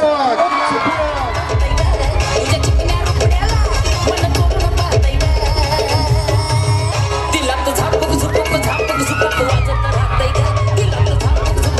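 Loud school dance event audience cheering and shouting continuously, children's voices whooping amid dense crowd noise, with music-like tones and babble throughout.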